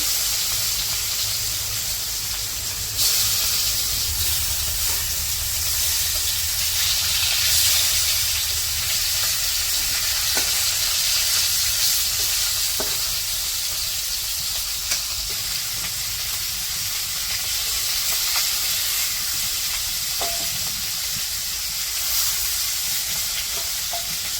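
Fish frying in hot oil in a pan during simple village cooking, a long, even hiss and sizzle that carries on steadily at close range, with occasional faint clicks and no talking.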